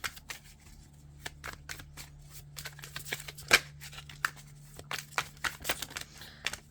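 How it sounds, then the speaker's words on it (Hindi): Tarot cards being drawn from a deck: soft, close papery slides and flicks, with a few sharper snaps, quiet and intermittent over a low steady hum, with no talking. "मैं तीन कार्ड और निकालती हूँ"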